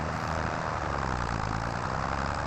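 A tractor in Farming Simulator 25 drives up a steep hillside off-road, giving a loud, steady engine drone that holds at a constant level with no voices.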